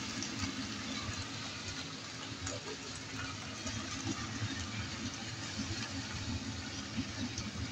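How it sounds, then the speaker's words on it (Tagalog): Water poured into a cooking pot of pork and potatoes: a steady, faint, continuous rush of liquid under low background noise. "Lagyan na natin ang ating tubig."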